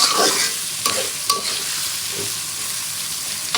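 Onions sizzling in a pan on a stove, a dense, fairly loud hiss with occasional stirring clinks and scrapes, steady throughout and with no talking.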